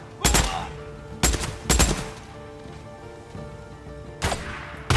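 Sharp video game gunshots from Days Gone ring out in separate loud, close blasts, a few spaced single shots and a quick pair, over a low steady background hum.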